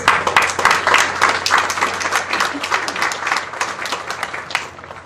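A large commencement crowd at Endicott College claps steadily, a dense, sustained wash of applause throughout with no voices standing out.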